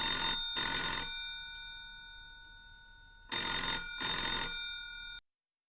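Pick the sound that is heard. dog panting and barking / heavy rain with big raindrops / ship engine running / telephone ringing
telephone ringing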